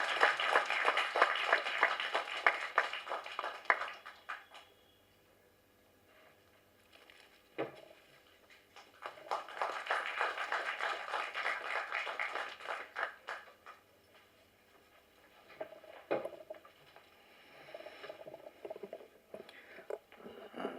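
Bursts of applause at a movie press meet welcome a music director onto the stage, with two main waves of clapping from the audience separated by quieter gaps and a few scattered claps near the end.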